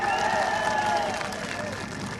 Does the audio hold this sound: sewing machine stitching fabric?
no